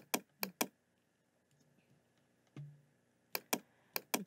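Computer keyboard keys pressed during Ctrl+Y in a design program: a few crisp clicks at the start, a soft pause, then a quick run of clicks near the end, close and quiet.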